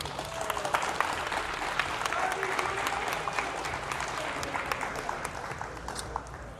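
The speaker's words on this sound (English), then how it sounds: "Round of applause for him" Sustained audience applause at a live showcase event, many hands clapping steadily with scattered cheers mixed in, fairly loud throughout and tapering slightly at the close.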